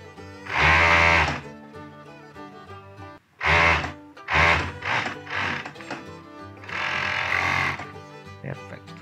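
A sewing machine stitches a sleeve onto a baseball shirt in several loud bursts of rapid whirring, separated by short pauses.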